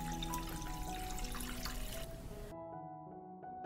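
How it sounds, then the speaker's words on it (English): Water pours into a cloth-lined pan around glass jars set for pasteurization, a close, steady splashing stream that stops abruptly, leaving near silence. "I will pour water up to the height of the lid."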